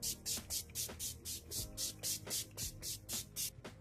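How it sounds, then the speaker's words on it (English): Urban Decay All Nighter setting spray misted onto a face in a run of about thirteen quick, evenly spaced hissing pumps, each a short close burst of airy spray with brief gaps between. "today I'm going to be using the All Nighter Setting Spray from Urban Decay"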